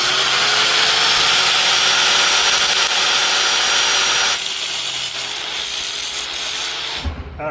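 A piece is sawn off a workpiece clamped in a vise, a steady loud rasping stroke rhythm running continuously for about seven seconds before stopping abruptly with a final clunk.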